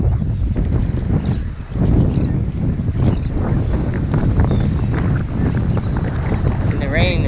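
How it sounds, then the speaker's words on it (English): Strong wind at North Beach, Fort De Soto, as rain approaches: a loud, continuous roar of gusts buffeting the microphone for the whole stretch, with a brief dip partway through. "It's really windy."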